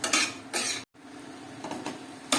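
Chicken egg fried rice with mixed vegetables being stirred in a pan, utensil scraping and clinking against the metal in bursts with a brief pause, close and fairly loud.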